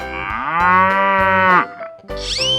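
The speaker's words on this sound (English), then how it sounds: "cow," A cow in a 3D animal slide video game lets out a loud, drawn-out moo that falls off sharply, followed by a brief bright game sound.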